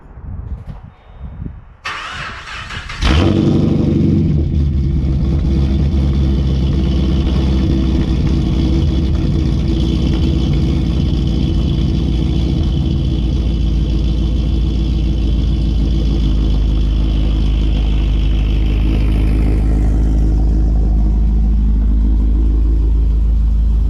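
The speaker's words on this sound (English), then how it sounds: "do a little cold start for you guys." A Pontiac G8 GT cranks briefly after a few seconds of quiet, then fires with a loud surge and settles into a steady, rumbling cold idle that continues close and alone.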